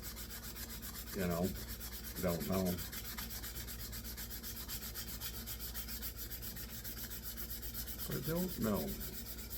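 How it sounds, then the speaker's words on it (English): Steady abrasive rubbing of sandpaper on a briar tobacco pipe being restored to lift a deep stain, continuing throughout while a man briefly mutters a few words. "It could go, I could be sanding forever."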